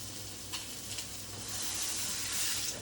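Food sautés in a pan, a continuous moderate sizzle that swells slightly toward the end, with a couple of faint utensil touches.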